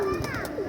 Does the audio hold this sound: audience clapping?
no